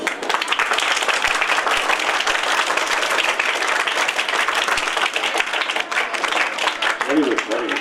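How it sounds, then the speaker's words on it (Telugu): Sustained applause from an audience at a Rotary Club event held in a government school, steady and dense clapping filling the whole stretch with a brief voice near the end. "క్లాప్స్ ఇవ్వండి."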